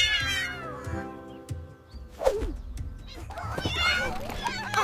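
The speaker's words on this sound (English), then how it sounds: "Meow." Cat meows rise and fall in a few drawn-out cries, close and fairly loud, with children's voices and other chatter mixed around them.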